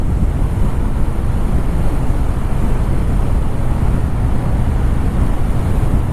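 Wind buffeting a microphone on a spring motorcycle ride, a loud, constant low roar with dense rushing noise that never lets up.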